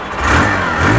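A Hero Glamour 125 motorcycle engine runs steadily in neutral after a self start, a loud, close, continuous mid-pitched drone with a slight rise in revs and no talking.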